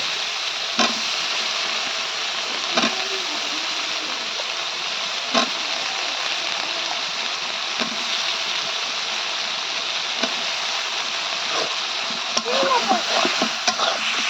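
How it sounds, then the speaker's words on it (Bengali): Spices sautéing in a pan give a steady broadband sizzle, with occasional sharp scrapes and clicks from stirring at a regular pace. A voice is faintly present underneath. "মশলা দিয়ে দিচ্ছি এখন হলো কষাই নিচ্ছি"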